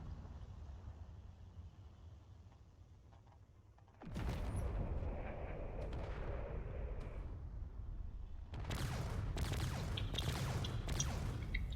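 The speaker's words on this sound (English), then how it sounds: "Those cannons are definitely doing a lot of big hits." Cannons fire in a drone wars video game battle. After a quieter stretch, heavy booming blasts start and keep rolling, with a second cluster of sharp, loud hits near the end.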